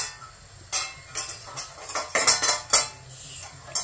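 Idli batter gets stirred lightly with a spoon in a metal vessel, producing a string of close clinks and scrapes in an uneven rhythm, with short pauses between strokes.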